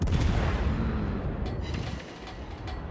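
Heavy gun fire from a warship in World of Warships, a loud booming blast that rolls on and fades, with a sharper crack or two near the end.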